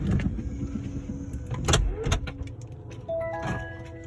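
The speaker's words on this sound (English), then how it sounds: "Doors are closing." Doors of a driverless Waymo self-driving car close from inside the cabin, with mechanical clunks, a motorized whir and a rising electronic tone over low road noise.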